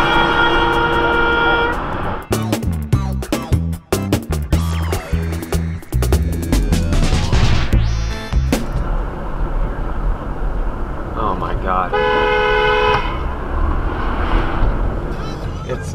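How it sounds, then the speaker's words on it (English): A car horn blares in long and short honks at a tailgating driver in road traffic. Loud blasts open the stretch, a burst of rapid honks follows, then a final long toot, with a person talking between them. "We don't normally honk in situations like this, but he had it coming"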